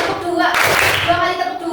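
A third-grade class claps hands in a short rhythmic burst during a lesson, close and lively, with voices chanting along.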